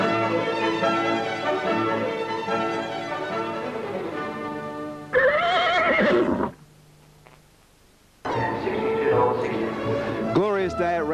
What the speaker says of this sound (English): the horses parade for the start of the Spring Champion Stakes